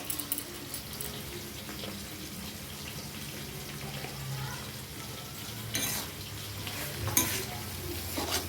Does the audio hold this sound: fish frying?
yes